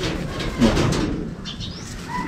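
Racing pigeons being released before a derby race give a short burst of flapping wings mixed with soft coos, close by and fading toward the end.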